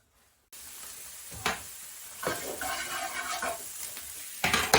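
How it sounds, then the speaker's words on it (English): Continuous sizzling of mince frying in a pan with a little knob of fat, with occasional scraping and stirring noises, steady and close. "So I'm frying the mince up with just a little knob of fat"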